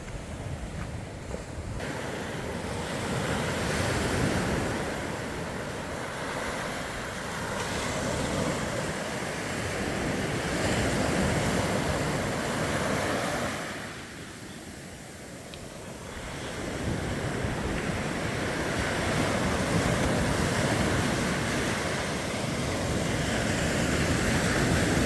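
Waves of the West Philippine Sea wash continuously onto a Palawan west-coast beach, a broad steady surf roar mixed with wind buffeting the microphone, dipping briefly midway before swelling again.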